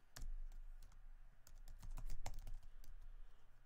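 Rapid, irregular keystrokes on a computer keyboard while VBA code for an Excel macro is typed, close and crisp with no talking.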